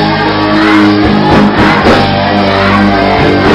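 A loud, packed crowd at a Thai song-contest final shouts in unison for one million votes, a dense, continuous roar of voices with no pause, alone without any single speaker standing out.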